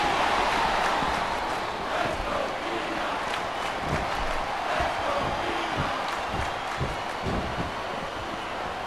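A roaring video-game crowd cheers throughout a wrestling match in a continuous dense wash of noise, loud and steady with scattered thumps and shouts mixed in.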